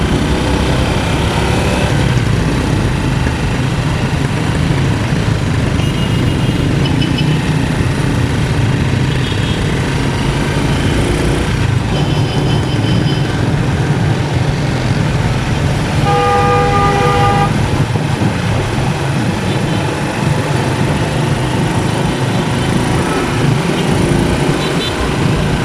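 Congested road traffic in Caloocan: a constant loud drone of nearby engines, with scattered horn toots and a clear multi-note honk about two-thirds of the way through, faint voices underneath.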